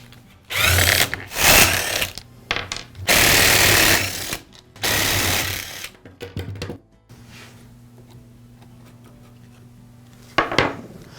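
Side cover being taken off the trigger handle assembly of an Echo string trimmer: several loud, close bursts of whirring tool noise with short gaps between them, then a quieter stretch before one more brief burst.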